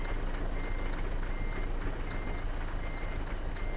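Steady, evenly spaced reversing beeps from a Scania 4 Series truck in Euro Truck Simulator 2, repeating over a constant loud engine rumble with no talk.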